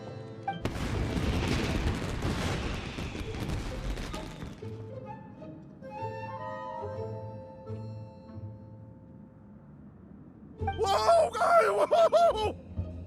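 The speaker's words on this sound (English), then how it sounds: "It sounded like fireworks." Fireworks explode in the Genshin Impact video game as a burst of crackling booms and rumbles lasting a few seconds, then quieter game tones, followed by a short excited voice.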